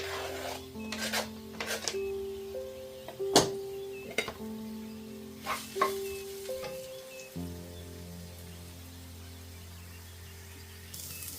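Chopped onion frying in a pan as the base of a salmon curry, a light continuous sizzle with rasping scrapes and a few sharp clinks of a utensil, while a low steady hum runs underneath.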